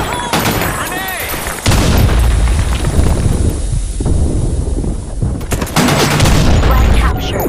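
A grenade explodes during a capture-the-flag video game match: loud, booming bursts land near the start and again later, set among rapid gunfire, with an in-game announcer voice.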